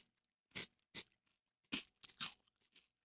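Crunchy cereal clusters resembling Cap'n Crunch pieces are chewed close up, with a handful of separate loud crunches spaced irregularly over a few seconds amid quiet.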